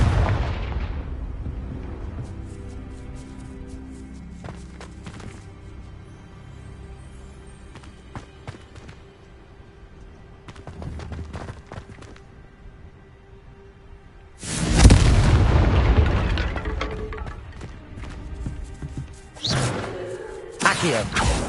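Confringo spell blasts in the video game Hogwarts Legacy: a few deep booming explosions with rumbling tails, the loudest burst coming late, over a steady game background.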